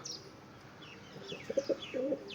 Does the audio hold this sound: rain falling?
no